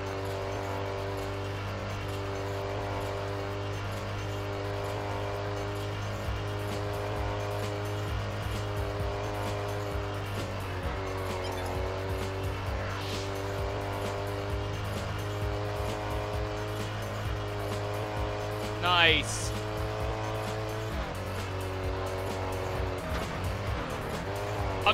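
Koenigsegg supercar racing in Test Drive Unlimited on PS2: a steady, droning high-rpm engine tone holds throughout, with tires squealing and skidding through corners and a brief sharp screech near the end.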